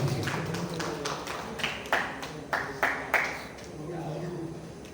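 A few sharp hand claps ring out from the audience at a Hindi kavi sammelan, with a brief scattered run of four or five claps over ongoing talk.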